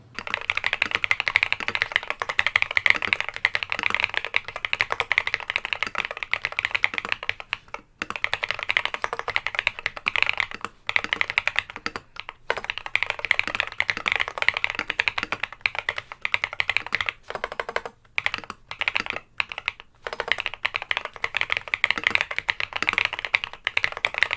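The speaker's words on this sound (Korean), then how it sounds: "자, 그럼 이제 한번 간략하게 타건 한번 진행을 해보겠습니다." Rapid, continuous clacking of a hot-swap Epomaker Brick87 mechanical keyboard with Peace Lily switches being typed on, close and steady with brief pauses, no voices.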